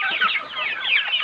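KUB chickens cluck and chatter close up in a quick stream of short, overlapping calls.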